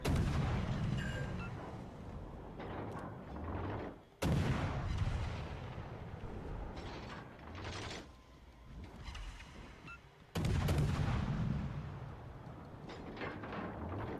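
Heavy warship guns boom in World of Warships: Legends, with two sharp loud salvos standing out over a continuous rumble of distant gunfire and engine noise.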